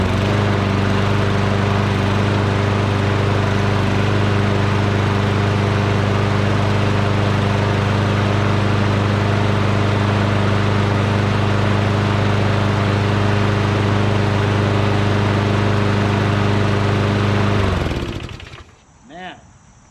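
A lawn mower engine fitted with a Troy-Bilt carburetor runs loud and steady at a smooth, even idle for most of the time, then cuts off abruptly, leaving a brief rattle and quiet.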